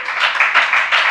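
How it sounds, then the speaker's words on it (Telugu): A church congregation clapping hands together at a sermon, a steady run of loud, fairly rhythmic claps filling the space with no pause. "కొట్టు చప్పట్లో."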